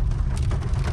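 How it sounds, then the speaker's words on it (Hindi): Heavy rain pours down outdoors in Thane West, a dense, loud, steady hiss with low rumble and no voices over it. "आज बहुत बारिश हो रही है"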